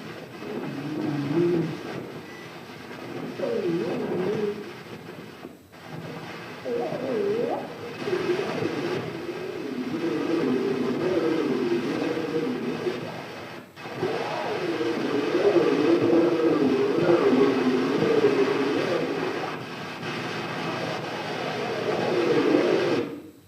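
An 1878 phonograph recording of New York street sounds plays back as a muffled, hissy, lo-fi rumble of noise, steady and continuous with brief dropouts, no clear voices.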